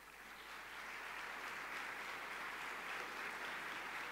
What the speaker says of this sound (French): Un tonnerre d'applaudissements pour Emmanuelle Riva.